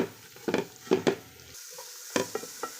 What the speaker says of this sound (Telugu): ఒక కప్పు పెరుగు ఇలా చక్కగా మిక్స్ చేసేసుకొని పచ్చి వాసన అంతా పోయేంత వరకు బాగా ఫ్రై చేసుకోవాలా